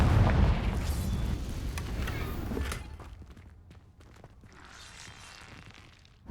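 A Confringo fire spell explodes in Hogwarts Legacy: a loud, rumbling burst up front that decays over a few seconds, followed by quieter scattered steps and small crackles.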